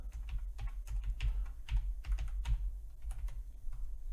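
Computer keyboard typing in quick, uneven bursts of close, crisp key clicks, continuing steadily throughout at a soft level with no voices.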